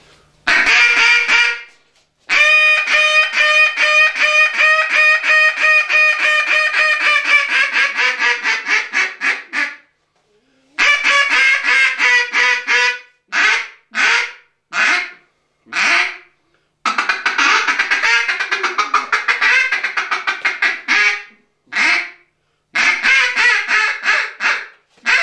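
Delrin poly reed duck call blown in loud, close bursts: a long run of raspy quacks, then shorter clusters of quacks and single honking notes separated by brief pauses.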